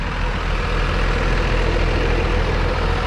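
A Hino RK8 R260 bus with air suspension and its original exhaust idles steadily, a loud, continuous low engine rumble with no breaks or voices.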